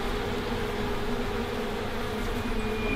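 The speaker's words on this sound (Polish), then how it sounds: "Te pszczoły chyba sobie budują." A steady, droning hum of buzzing bees fills the air, continuous and fairly close, with no voices.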